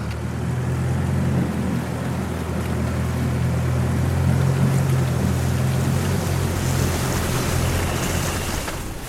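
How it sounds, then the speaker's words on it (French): A motorboat engine drones loud and steady near the mangrove coast of Guadeloupe, a low continuous rumble with water wash around the hull that holds through the clip and eases slightly at the end. "On va couper le moteur."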